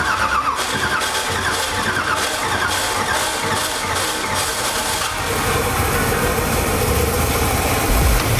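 A 6.0 LS V8 swapped into a Nissan 240SX cranks for several seconds, then catches and settles into a steady, rumbling idle, loud and close throughout.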